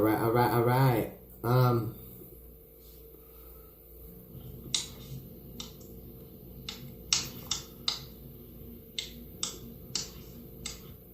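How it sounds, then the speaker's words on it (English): Typing on a computer keyboard, scattered clicky keystrokes in an irregular rhythm, close and fairly quiet, after someone speaks briefly at the start. "just typing."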